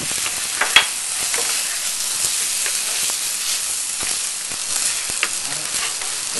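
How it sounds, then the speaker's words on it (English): Rice and bacon sizzling steadily in a hot pan, a constant crackling hiss with a few sharper pops, close up and with no talking. "There we go, sizzling away."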